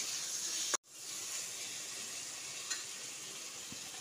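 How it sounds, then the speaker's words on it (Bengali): Potatoes and ridge gourd sautéing with spices in a pan hiss with steady close sizzling, cut by one sharp silent break, then continuing evenly with a faint tap later. "এবার আমি ঢাকা দিয়ে দিয়ে আলু ও ঝিঙেটাকে বেশ খানিকক্ষণ কষিয়ে নিচ্ছি"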